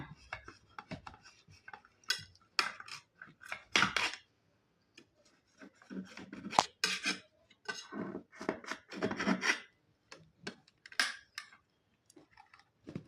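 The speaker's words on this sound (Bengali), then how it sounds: "দেখুন, এবার আমি চারিদিক থেকে এই চাকুর সাহায্যে এটাকে ভালো করে" A knife scrapes and taps around the edges of a dish to free a set milk cake, in short, irregular bursts of scraping close by, separated by quiet gaps.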